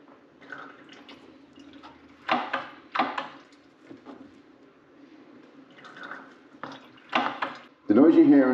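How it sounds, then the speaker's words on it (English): Mechanical clunks and squeaks from pumping the rear brake pedal of a BMW K1600 motorcycle during a brake fluid flush, with two pairs of knocks and a final squeaky hiss as the bleeder is released, close and moderately loud. "The noise you're hearing is me pumping the rear brake pedal twice, holding it down, and then releasing the bleeder."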